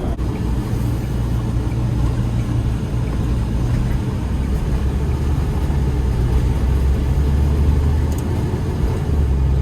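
Steady low road rumble inside the cab of a 2020 Nexus Wraith 34W Super C motorhome while driving, a constant, moderately loud drone with no voices.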